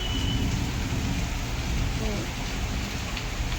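Steady, dense rainfall with a low rumble of thunder underneath, continuous and fairly loud throughout.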